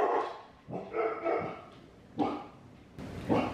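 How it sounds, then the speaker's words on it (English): Dogs barking in the background of a home, several separate bursts of barks spaced across a few seconds, moderately loud with no talk over them. "we may hear dogs in the background."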